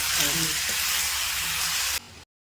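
Minced mutton keema sizzles in hot oil with ginger-garlic paste, a dense steady frying hiss with faint voices underneath, ending abruptly after about two seconds.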